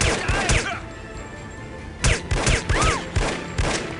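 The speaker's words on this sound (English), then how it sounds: "Get down for the bullets!" Gunfire from the spy shooter No One Lives Forever comes as clusters of sharp, punchy shots and impacts in bursts, separated by short pauses, with a voice briefly heard among them.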